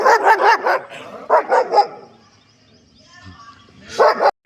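A dog barks at night in a village, in three quick clusters of sharp, fairly close barks separated by quiet pauses.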